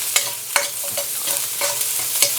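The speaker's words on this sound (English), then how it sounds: "I'm going to pop in my peppers and a little bit of onion." Peppers and onion stir-frying in a hot pan, a bright, steady sizzle broken by about five sharp spatula scrapes and knocks at irregular intervals.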